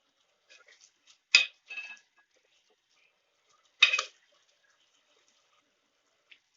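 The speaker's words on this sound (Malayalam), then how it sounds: "ഇനി നമുക്ക് നന്നായി ഇളക്കി യോജിച്ച് കൊടുക്കാം" A spoon scrapes and stirs beetroot through spice powder in a pan for puli inji, two short gritty bursts with a few faint clinks between them in an otherwise quiet kitchen.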